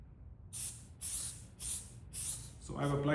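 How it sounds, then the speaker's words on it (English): An aerosol can sprays level 3 sensitivity liquid penetrant in four short hissing bursts at a steady rhythm, followed by a brief mechanical whir at the end. "So I've applied the penetrant,"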